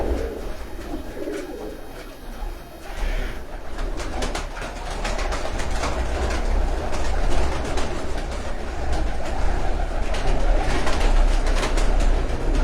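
Pigeons at a rooftop breeding setup coo and flutter up close, under a steady rumble of a passing train.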